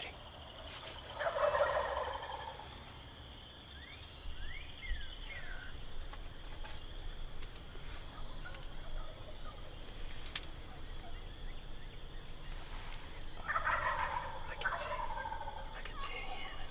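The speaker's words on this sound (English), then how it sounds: "they're sure gobbling good this morning" Wild turkeys gobble in an Iowa field on a spring morning, two distinct rattling gobbles at a moderate distance over quiet outdoor ambience, with faint bird calls between them.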